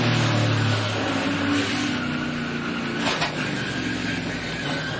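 Steady engine drone and road rumble inside a NASCAR race car, heard from the onboard camera during a multi-car crash late in the race, loud and continuous with a brief rattle and bump about three seconds in.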